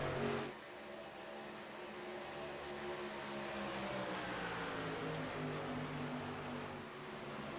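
Racing trucks in a sim racing game roar past with a sustained, steady engine drone, several motors blending into one loud continuous whine with slight pitch shifts, no talk over it.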